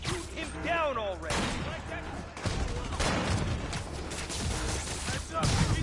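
Gunfire bursts from a Spider-Man video game, loud rapid volleys with crashing impacts running through the whole stretch, mixed with game voices and effects.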